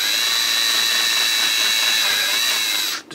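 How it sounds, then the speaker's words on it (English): Power drill boring a small hole with a 1/8 inch bit, a steady high-pitched whine holding even and loud close up for about three seconds before it winds down at the end. "So right there is pretty much where I like to drill my hole."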